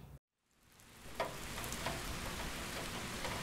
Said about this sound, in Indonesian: itu hujan, Mas.